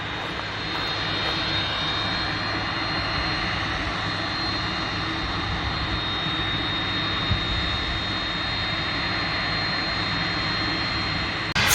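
Airplane engine running at an airport, a broad continuous roar with a steady high whine, heard from a distance and holding level throughout.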